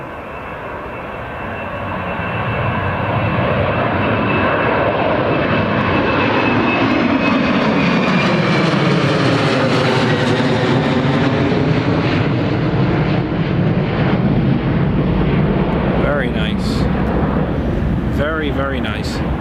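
A Jet2 Boeing 737-800 jet at Newcastle Airport roars past, its engine noise swelling from faint to loud and holding a steady, powerful rumble with a whining tone and wind buffeting. Someone talks over it.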